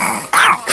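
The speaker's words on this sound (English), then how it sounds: "There's a dog coming." A dog growls and yips in short, loud bursts, three rough snarling pulses in under a second, close by and with no talk over it.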